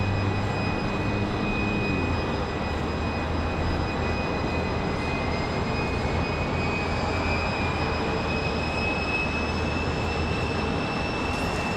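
Airplanes at Raleigh-Durham International Airport: a steady, loud jet roar with a thin high whine running under it, unbroken for the whole stretch, no talking.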